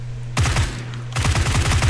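Two quick bursts of rapid gunfire in PUBG, each a tight string of loud, close shots, the second burst longer than the first.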